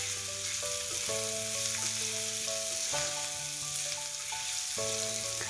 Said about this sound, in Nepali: अब यसलाई 1-2 मिनेट जति यो हल्का रातो रातो हुने बेलासम्म यसलाई फ्राई गर्नुपर्छ।